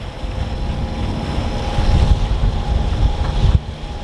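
A sailboat heads out for the first trip of the year through wind and waves, loud wind buffeting the microphone over a continuous wash of water. The noise swells near the middle and drops off abruptly just before the end.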